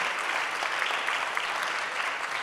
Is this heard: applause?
yes